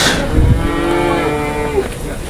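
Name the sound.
bull calves mooing at livestock market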